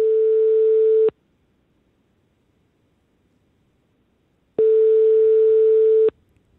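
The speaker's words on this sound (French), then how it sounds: "Deux sonneries." A telephone call rings out twice, two loud steady electronic tones each lasting about a second and a half, separated by several seconds of near silence.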